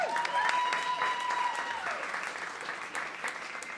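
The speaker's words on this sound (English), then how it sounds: "So big round of applause for Tori Maldonado." Audience applause for a speaker at a live storytelling stage show, a steady wash of clapping that starts loud and tapers slightly over a few seconds, with a brief tone near the start.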